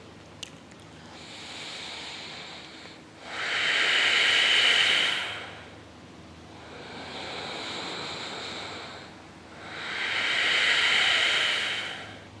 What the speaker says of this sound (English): contract your epiglottis in and producing the hissing sounds while breathing